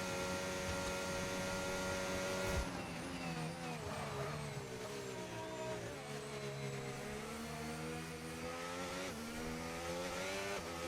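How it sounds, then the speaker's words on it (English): McLaren Formula 1 car in an F1 racing game passing at full racing speed during Australia qualifying, a steady high-pitched engine whine with gear-shift pitch drops, loud and continuous with no talk. "here comes the McLaren at full racing speed"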